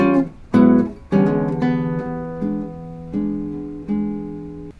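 Solo guitar strums an E dominant 7 accompaniment figure: a few clear, ringing chord attacks with short gaps between them, each left to sustain and fade, played alone with no talking.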